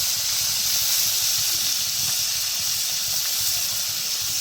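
Koi fish, one large and one small, lightly frying in hot oil, giving a steady, loud hiss and sizzle that runs unbroken from start to finish, with no talk over it.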